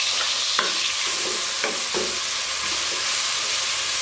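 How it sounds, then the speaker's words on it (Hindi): Tomato and onion fry in hot oil, giving a loud, constant hiss with a few clacks and scrapes of a stirring spoon against the pan, heard close and alone without speech. "ऑयल गर्म होना शुरू हो गया, तो इसमें हम टमाटर डालते हैं और प्याज"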